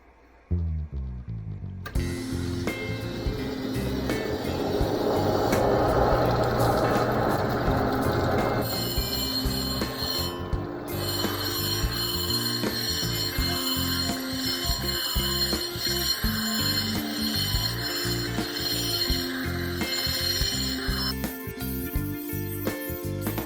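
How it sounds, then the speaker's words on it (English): A 100 grit diamond wheel grinds a Noreena jasper cabochon, giving a continuous motor whir with a steady tonal whine and gritty scraping from the stone. The machine starts up and runs for about twenty seconds before dropping off near the end. "I will work by grinding as close as I can without going into that line on first this wheel here, which is my 100 grit diamond wheel"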